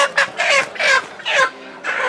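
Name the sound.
Sonali chickens clucking at market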